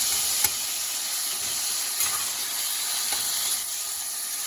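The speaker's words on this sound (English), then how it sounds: "then you'll brown it really good on all sides. Nice hot skillet." Bite-sized pieces of meat brown in a hot skillet with a steady, close hiss of sizzling fat, broken by a few faint clicks of a utensil, and no talking.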